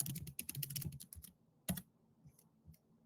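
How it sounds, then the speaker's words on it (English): Fingers tap a computer keyboard in quick irregular bursts of clicks, fairly close and quiet, with a brief pause and a few scattered keystrokes trailing off; no talking. "I'll type it in the chat."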